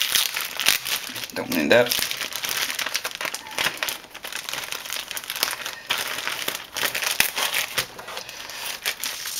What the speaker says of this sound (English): It's just in a simple bag. So here we have it. Just break this seal.